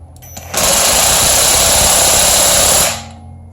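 A power tool on its low setting tightens a bolt, whirring in one steady, loud burst of about two and a half seconds that starts abruptly and winds down at the end.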